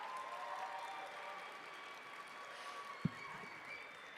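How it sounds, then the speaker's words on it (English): Steady audience applause, moderately quiet and continuous, at the official opening of a Language Awareness Week, welcoming a man forward, with one brief thump near the end. "Can we give him a hand of applause?"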